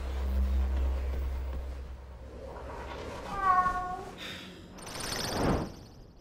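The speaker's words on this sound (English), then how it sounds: "Also, what's up with this cat?" A cat meows twice in the original Xbox game Breakdown, a short, wavering cry followed by a breathier one, faint and a little distant over low ambient game hum.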